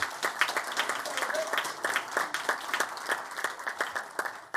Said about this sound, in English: You can applaud on that one, absolutely.